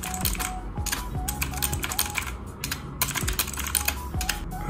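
Fast typing on an Armaggeddon MBA-61R gaming keyboard, with a close, steady run of crisp key clicks and a few heavier keystrokes mixed in.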